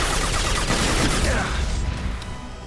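Dense gunfire from a third-person shooter, Mass Effect 2: a loud, continuous burst of rapid shots and booms from a firefight, fading into a quieter tail after about two seconds.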